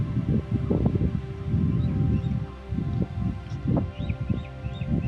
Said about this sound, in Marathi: इथे फक्त वाऱ्याचा आवाज येत होता आणि पक्ष्यांचा किलबिलाट